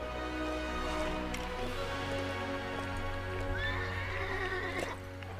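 A summoned black horse in the video game LEGO Worlds gives a whinnying neigh over steady game background music, with light clip-clop and ambient rustle; the neigh rises clearly in the second half.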